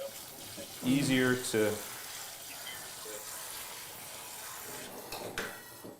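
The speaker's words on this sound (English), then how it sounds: "So what I do is I put some water over it, just to kind of melt it a little bit" Tap water running over frozen sea moss in a kitchen, a steady splashing stream under a person talking, with a louder burst of voice near the start.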